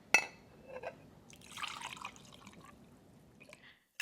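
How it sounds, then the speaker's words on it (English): Bourbon poured into a glass for a Viceroy's Old-Fashioned, a short clink followed by a quiet trickling pour and drips, close and faint with no talk. "So I'm just going to pour it in here some and then cover that."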